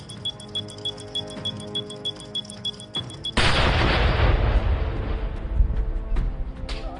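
A loud explosion in an operation foiling a terrorist plot in Kashmir bursts in after a few seconds of steady rhythmic beeping, then rolls on as a dense, sustained blast rumble until the end.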